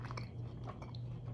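Someone chews a soft piece of steak, with quiet, close, moist mastication sounds repeating irregularly over a steady low hum.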